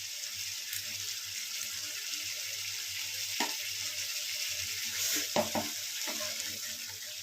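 Whisked yogurt hits hot masala in a pan on a raised gas flame, giving a steady soft sizzle with a few stirring scrapes and clinks, close and moderately loud, no talking.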